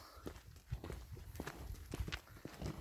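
A young mare's hooves clip-clop at a walking pace on a hard road, fairly quiet and irregular, with faint background noise and no clear talking.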